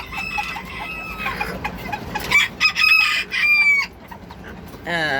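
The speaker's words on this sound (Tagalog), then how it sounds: "Ingay ng mga manok ah" Chickens cluck steadily in the background while a rooster crows loudly nearby, its call rising and falling.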